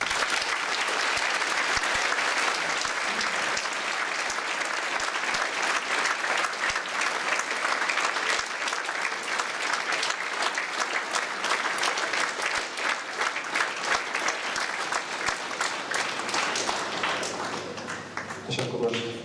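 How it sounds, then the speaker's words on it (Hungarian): Audience at a school March 15 commemoration at Tóth Árpád Gimnázium breaks into sustained, loud applause, dense clapping filling the hall steadily before thinning slightly near the end. "kérem, hogy mindenki tapsolja meg őket"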